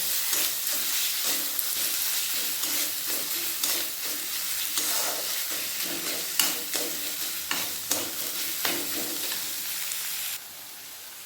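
Salt is fried for a dhaba-style chicken curry, a steady close sizzle with repeated stirring scrapes, easing to a quieter hiss near the end, no voices.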